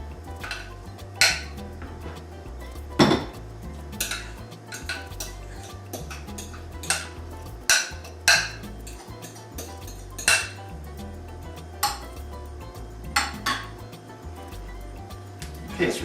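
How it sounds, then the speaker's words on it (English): A utensil spreads an avocado mixture for a layered Tex-Mex dip in a dish, making scattered light clinks and scrapes against the bowl, close and intermittent over faint room sound. "So we're going to spread on the avocado mixture."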